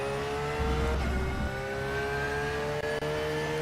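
A GT3 race car engine in a racing video game holds a steady high-pitched whine, with a short dip and gear-shift burble early on before the tone resumes, continuous and close.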